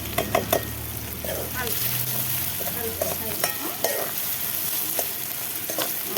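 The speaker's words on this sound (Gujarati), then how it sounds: "હવે નાખી દઈશું લસણ ને એવું લીલા મરચાં ને એવું નાખી દઈશું આપણે નાખી દઈશું ડુંગળી" Garlic, green chillies and onion frying in hot oil for a Gujarati peanut-fritter gravy dish, a steady close sizzle with a few sharp spoon clinks and stirring scrapes early on, no talk.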